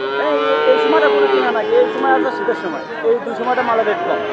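Cattle lowing at a busy cow market (gorur haat), with drawn-out moos repeating over the crowd's steady chatter and nearby talk.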